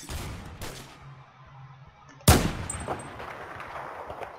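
A semi-automatic gun in the Roblox game Phantom Forces fires a few separate shots, one sharp loud blast standing out among fainter earlier reports, with a metallic ring trailing after.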